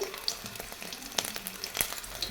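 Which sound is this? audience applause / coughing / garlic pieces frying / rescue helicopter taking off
garlic pieces frying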